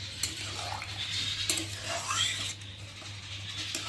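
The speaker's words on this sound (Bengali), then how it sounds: "ভালো করে একটু নেড়ে দেবো" Soybean and potato curry stirred in a pan with a metal spoon, scattered scrapes and clinks against the pan over a low background hum, soft and close.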